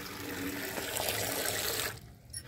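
Water rushing steadily from a tap or spout, loud and close, running continuously before cutting off abruptly near the end, with no talking.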